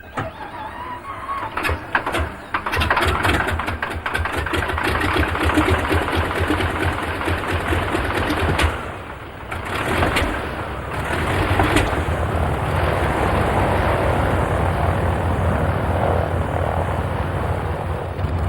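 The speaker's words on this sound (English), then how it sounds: "The Junkers 52, nicknamed in German Tante Ju, or Auntie Junkers, was among the most famous of all transport aircraft." A Junkers 52 transport aircraft running its engines, a loud, close, rapidly pulsing mechanical chatter that holds steady for long stretches with a few brief dips and surges.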